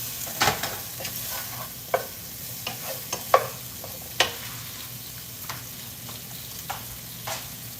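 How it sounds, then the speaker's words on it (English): Butter sizzling in a hot pan during a live cooking show, a low steady hiss punctuated by sharp stirring clacks and scrapes at irregular intervals, with no voices. "I'm gonna go ahead and drop this in there. That butter."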